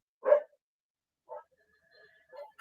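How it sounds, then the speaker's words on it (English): Several dogs bark in short, separate bursts at home, one loud bark followed by a few quieter, spaced barks and yips. "The dogs were barking."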